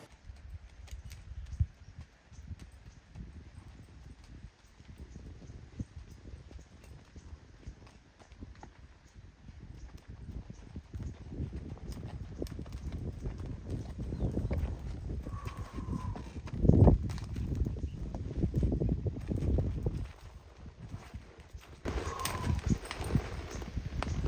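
Horse hooves clop steadily on the ground at a walking pace, fairly faint at first and growing closer, with a brief snort or whinny partway through.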